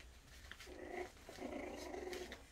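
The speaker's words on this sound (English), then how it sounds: "I hope you can hear that little growl." A puppy growls softly while play-fighting with its littermates, a low continuous rumbling growl with a couple of brief rises, close but quiet, with no talking.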